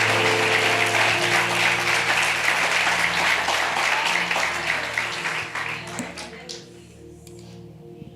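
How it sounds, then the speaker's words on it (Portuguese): A church congregation at a worship service in Lisbon claps together in praise, bright and fairly loud, with a low organ or keyboard tone underneath; the clapping thins out and fades over the last few seconds. "As palmas louvam ao Senhor."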